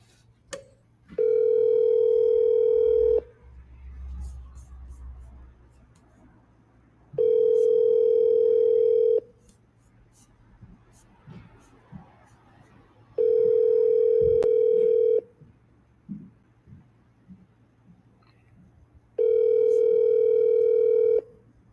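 A telephone ringback tone while placing a call: four long steady tones sound in a slow, evenly spaced pattern, separated by quiet gaps with faint background noise.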